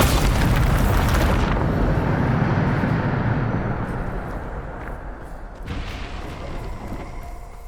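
Bombarda spell explosion in the Hogwarts Legacy video game: a loud, broad rumbling blast that trails off into a fading roar, with a second softer burst of debris noise near the end.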